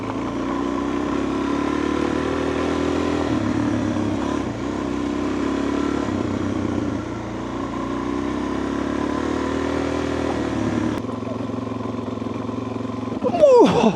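A motorcycle rides steadily along a gravel road, its engine a continuous mid-pitched drone with rough crunching texture, holding level for most of the stretch before a sharp jolt and clattering burst near the end.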